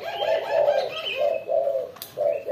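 A spotted dove (tekukur) coos repeatedly and close by, a steady series of soft, throaty rolling notes with brief pauses and a faint chirp in the background.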